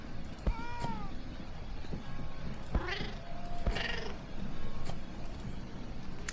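Cats meowing in a hidden object art puzzle video game, several short rising and falling meows spread across the clip over a steady background hum, with sharp clicks between calls.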